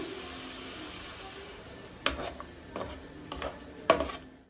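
Raw mango and fish roe curry is stirred in an uncovered pan: a quiet background hiss, then several sharp scrapes and metallic clinks of a spoon against the pan in the latter half.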